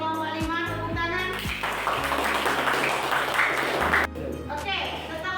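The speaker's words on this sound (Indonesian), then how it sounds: "Tepuk tangan." Classroom of students clapping for a group that has just presented, a dense burst of applause lasting a couple of seconds amid voices and a teacher speaking.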